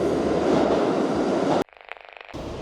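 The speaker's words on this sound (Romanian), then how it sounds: "Am scăpat să facem intro acum, dar a venit metrou." A New York subway train arrives with a loud, dense rumble that cuts off abruptly, leaving a brief quieter stretch of rhythmic clatter before the roar returns.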